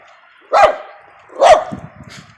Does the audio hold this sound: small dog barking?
yes